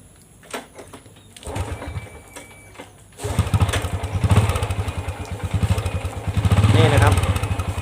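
A Honda Wave 110 motorcycle with a weak battery starts after a few clicks and cranks, then idles with a steady, close, loud putter that rises briefly when revved, while someone talks over it.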